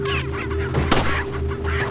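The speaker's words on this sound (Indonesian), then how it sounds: "Ayam ini mau kelihatan" Chickens in the Resident Evil 4 video game give a few close, loud clucking calls in quick succession over a steady low game hum.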